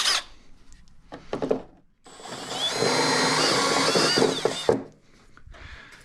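A power drill bores holes into a panel on a 2025 Polaris 9R snowmobile, with short bursts of whirring and scraping before a sustained loud grinding run of about three seconds, then brief handling clatter.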